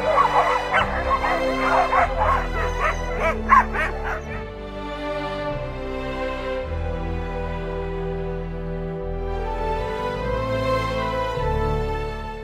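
Sled dogs in the snowy Vercors bark and yip loudly at close range in rapid bursts, then shift into drawn-out, high whimpering and whining cries that continue to the end.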